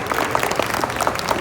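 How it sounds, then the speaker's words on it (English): Audience applause at a Houston Africa Day event honoring the mayor, a steady wash of clapping from a crowd filling the short moment, fairly loud and even without pauses. "please give Mayor Turner a round of applause"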